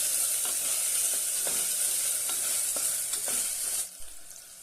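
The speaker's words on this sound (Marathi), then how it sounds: "एक टोमॅटो बारीक चिरलेला आहे तो घालूया छान त्याची परतून घेऊया" Chopped tomato and cumin sauté in a hot pan with a steady, loud sizzle, broken by a few sharp scrapes and clicks of stirring before the frying fades near the end.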